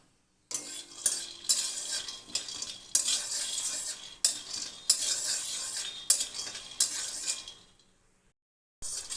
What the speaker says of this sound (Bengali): চিনাবাদামগুলো আগে ভেজে উঠিয়ে নেব